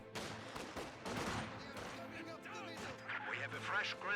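Gunfire rattles around a Grenadier squad in Company of Heroes 2, with quick bursts and cracks layered under busy battle noise and a commentator speaking over it.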